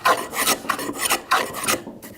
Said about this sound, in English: these are big, heavy, thick shavings that are coming off of here